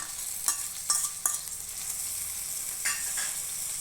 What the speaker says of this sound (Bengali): এবার পেঁয়াজ বাটাটা দিয়ে দিচ্ছি।